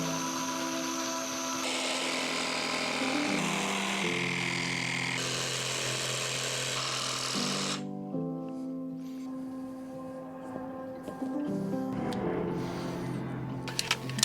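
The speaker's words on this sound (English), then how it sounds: "I've got to drill a hole through the middle so I can get the jigsaw in there and then cut around" A power jigsaw cuts through a carpet-lined panel in a Volkswagen Transporter T5 van conversion. It whines steadily and continuously for the whole stretch, changing pitch several times as the load shifts, close and fairly loud.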